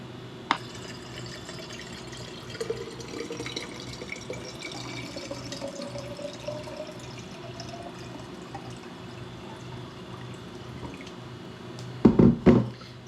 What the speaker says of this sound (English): Let's go ahead and get our water going.